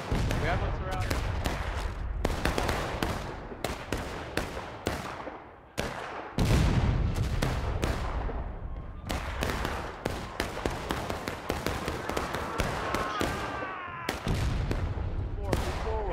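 Rapid bursts of gunfire crackle through a battle reenactment, loud sharp shots stacking into continuous volleys with brief pauses, while voices shout underneath.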